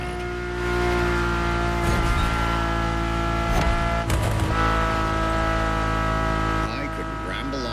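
Ferrari engine heard from the cockpit in The Crew Motorfest, a steady, loud, harmonic-rich drone that swells and shifts pitch with gear changes, with brief tire or gravel bursts near the end.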